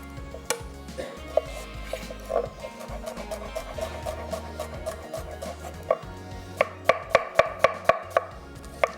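Onions sliced thin with a knife on a board, a string of crisp chopping taps that grows into sharp, evenly spaced knocks near the end, with soft kitchen clatter, no talk.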